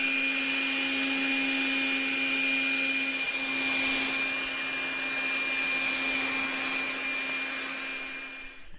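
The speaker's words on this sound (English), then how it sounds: "we want to take our brush, and we want to take our vacuum" A vacuum cleaner runs steadily while cleaning the air side of a home furnace during routine maintenance, a loud, constant whine with a sharp tonal hum that stays near and even before easing slightly at the end.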